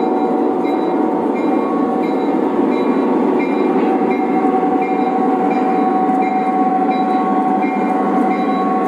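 An O gauge model train runs on a layout with a steady, continuous mechanical rolling hum and faint whine, close and loud, unbroken for about nine seconds without talk.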